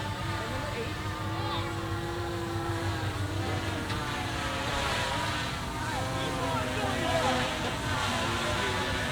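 A WL Toys XK X1S GPS drone flies fast, giving a steady buzzing whine under wind noise at moderate distance, with someone talking over it.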